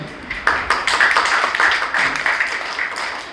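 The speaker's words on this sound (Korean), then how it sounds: "이승진 목사님 참석해 주셨는데 박수로 감사드리겠습니다" A seminar audience of church pastors and members claps in thanks, a short close burst of scattered hands lasting about three seconds.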